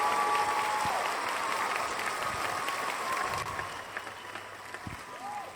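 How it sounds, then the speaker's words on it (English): Audience applause at a talk on Mars, moons, Tesla and Earth mysteries, a steady crowd clapping that fills the room for several seconds and fades slightly toward the end. "a round of applause, please."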